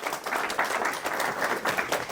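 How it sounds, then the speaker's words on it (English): An audience at a property investment event applauds the organiser, Omar, with a sustained, even round of clapping from many hands at moderate distance. "A round of applause for Omar."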